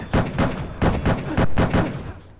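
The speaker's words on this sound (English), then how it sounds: "Somebody shooting a gun." Gunshots in the PS2 video game Crime Life: Gang Wars, a rapid burst of about seven loud, booming shots in quick, slightly irregular succession.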